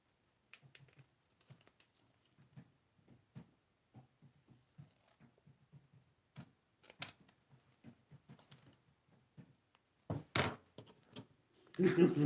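Super tacky tape gets trimmed with a series of small, quiet snips and clicks at an uneven pace, close by, followed by a few louder rustles and handling knocks at the end.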